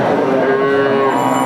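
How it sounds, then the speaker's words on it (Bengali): A milking cow with her calf at a cattle market in Chaugachha gives one loud, close, sustained moo that fills the moment, with no talk over it. "বাছুর সহ গাভী গরু"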